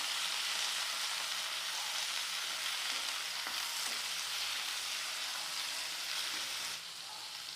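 Garlic and four chopped tomatoes sauté in a pan for a red sauce macaroni, giving a steady, dense sizzle with occasional stirring scrapes and no talking.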